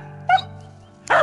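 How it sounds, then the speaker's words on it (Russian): A dog on a spring mountainside barks at a squirrel, giving two short, sharp barks about a second apart over a faint, steady background hum. "Лает просто так, что не знаешь, что там белка."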